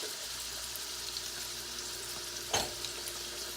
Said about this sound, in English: we're just going to let that go for a minute until we get some nice crispy veggies